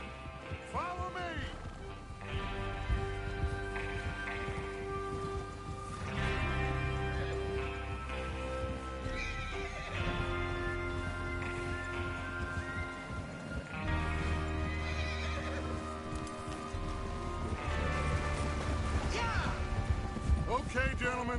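Horses in the Red Dead Redemption 2 video game whinny and hooves clop as riders prepare for a train robbery, heard faintly beneath a layered orchestral score with sustained tonal swells.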